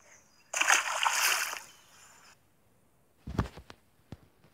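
A freshly caught carp of around a kilogram is released back into the water with a loud splash and sloshing lasting a couple of seconds, followed by a few sharp smaller splashes and drips close by.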